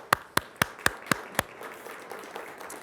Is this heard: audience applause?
yes